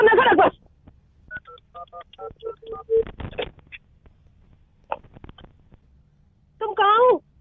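Telephone keypad being dialed: a quick series of short, clipped touch-tone beeps in an uneven rhythm, bracketed by brief bursts of a voice at the start and end, heard fairly quietly over a phone line.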